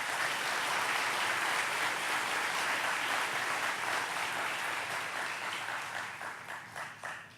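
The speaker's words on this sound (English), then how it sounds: "So please give him a big round of applause." Dense, sustained audience applause fills an awards ceremony hall, loud and steady at first, then thinning into scattered individual claps as it fades toward the end; no talking over it.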